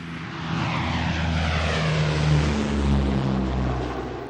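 A propeller airplane engine roars steadily as a sound effect in a dramatized audiobook of Saint-Exupéry's Night Flight, a loud, broad, continuous drone swelling slightly and holding throughout with no voice over it.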